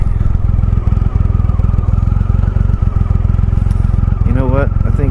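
A Triumph Rocket 3 Touring motorcycle's big engine thumping in a fast, steady, loud rumble up close, with a voice briefly heard over it near the end.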